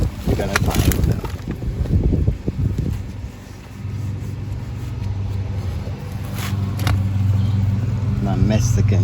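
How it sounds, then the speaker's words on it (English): Gusty wind buffets the microphone outdoors in a garden, with rough rumbling surges rising and falling throughout while a person speaks briefly at the start. "Yeah, it's windy today."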